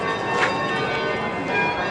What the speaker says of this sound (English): as you can hear, the old kirk bells go off